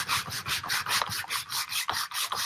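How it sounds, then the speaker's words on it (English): Old painted wooden board being sanded by hand, a rhythmic scratchy rasp of about a dozen close back-and-forth strokes with no talk. "We can see where we've been sanding."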